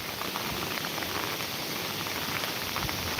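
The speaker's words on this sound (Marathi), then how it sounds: "अगदी मुसळधार पाऊस जसा पडतो" Heavy monsoon rain pours at Koyna, a dense, steady hiss of downpour drumming on surfaces, close and unbroken throughout.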